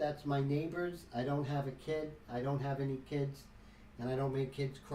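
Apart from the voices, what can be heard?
No distinct noise like a dog, phone or traffic.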